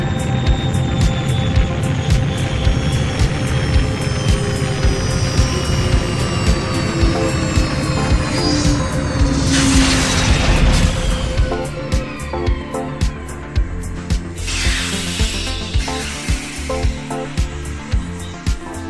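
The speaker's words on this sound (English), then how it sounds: "The noise you will shortly hear will be that of our retro rockets, which decelerate us to effect a soft landing." Spacecraft retro rockets fire for a soft moon landing, a loud sustained engine roar with rising whines and a rhythmic pulsing that continues as the roar lowers.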